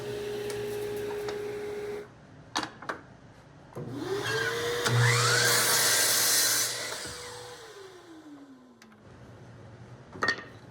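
Power saw cutting three wooden pieces for a safety gear holder, a loud motor whine rising and running for several seconds before spinning down, with brief workshop knocks before and after.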